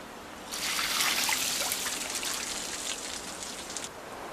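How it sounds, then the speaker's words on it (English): Water splashes and trickles steadily as it is poured over specially designed wooden racks outdoors in freezing cold to grow ice, a bright continuous spatter for several seconds that fades toward the end. "ice farmers repeatedly douse specially designed wood racks with water"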